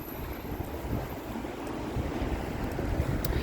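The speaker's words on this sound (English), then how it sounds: "It is windy." Steady wind buffets the microphone with a low, rumbling roar that builds slightly over a few seconds, with no voices, on a city street in Halifax, Canada, in January.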